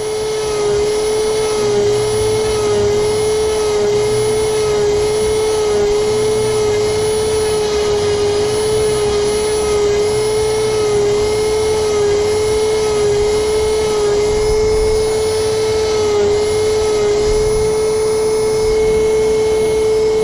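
Power tool smoothing and beveling the edges of a handmade coin ring destined for powder coating, a loud steady whine with a strong sustained tone running throughout without pause.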